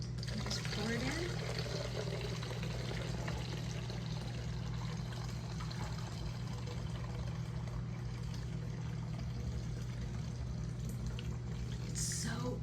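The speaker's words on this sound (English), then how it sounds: "pour the kefir that's done" Finished water kefir is poured into juice, giving a continuous liquid splashing and trickling under a steady low hum, with a brief clink near the end.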